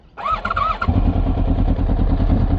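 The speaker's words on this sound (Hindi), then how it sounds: "वार्म अप करें बाइक को" A motorcycle engine starts with a whirring crank, then settles into a loud, steady, throbbing idle close by while warming up.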